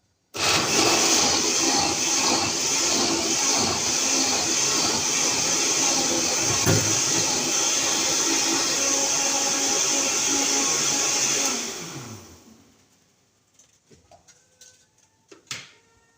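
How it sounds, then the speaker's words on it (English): A kitchen blender grinds coconut for Jamaican-style stew peas, a loud steady whirring roar that runs about eleven seconds, then winds down and stops, leaving a few faint clatters and knocks. "so I'm gonna blend up the coconut now"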